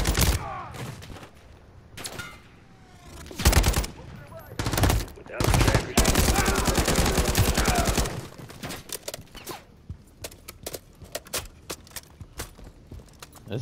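Gunfire in the Modern Warfare III campaign: scattered loud shots, then a long rapid automatic burst. After that come quicker, lighter bursts of fire, close up, with battle noise around them.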